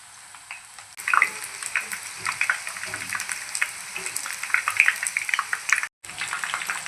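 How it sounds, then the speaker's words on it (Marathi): Chicken lollipops frying in hot oil on a medium gas flame: a close, steady crackling sizzle with bursts of popping spatter, continuous apart from a brief cut near the end. "आता 2-3 मिनिटं आपण एका साईडनं मीडियम गॅसवरती तळून घेऊया।"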